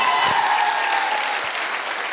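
Dense, steady audience applause fills a hall at a business awards gathering in Samastipur, Bihar, sustained at an even level without a clear peak or fade.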